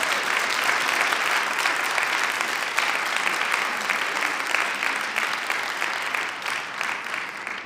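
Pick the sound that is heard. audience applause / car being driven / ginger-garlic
audience applause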